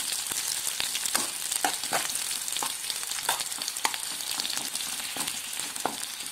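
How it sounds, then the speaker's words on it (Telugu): Cinnamon and cloves with a bay leaf sizzle in hot oil in a pan while being stirred for egg rice, a steady crackling fry with repeated scraping clicks of the spoon, close and moderately loud, no talk. "దాల్చిన చెక్క అండ్ లవంగం ఇలా వేసి ఒకసారి బాగా కలిపేసేయండి."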